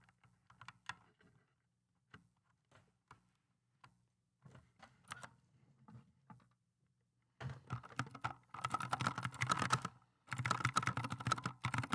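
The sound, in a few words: typing on a computer keyboard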